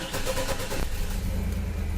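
A 1998 Chevy Blazer with the 4.3 engine fires up and settles into a steady running rumble. It is close and moderately loud with a brief rise at the catch, and no talk is heard.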